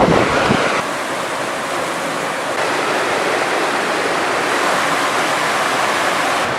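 Steady rush of river water and waterfall at Dipotama gorge on a hike, a loud continuous broadband roar close by with no pauses and no voices.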